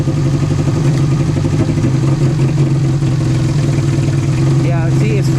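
A car engine fitted with RC injectors idles on all four cylinders with a loud, even mechanical rumble and light clatter, heard close up, and voices talk over it near the end.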